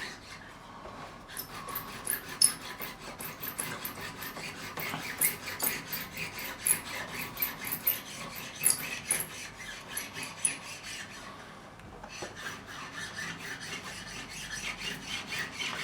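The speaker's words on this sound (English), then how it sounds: "This is a fine cut file." A fine cut file rasps along the fret ends of a Michael Kelly Patriot Premium guitar during a refret, steady close scraping strokes repeating with a brief pause near the end.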